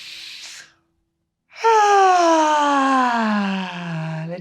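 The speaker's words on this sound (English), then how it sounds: "Big breath in." A person draws a deep breath in through an open mouth in a short airy rush, then after a pause releases a long voiced sigh that slides downward in pitch.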